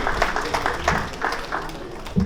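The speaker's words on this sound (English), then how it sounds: "Please give them a hand of applause" Brief burst of crowd applause at a diaspora convention morning session, a dense, steady clatter of hands filling the hall from start to finish.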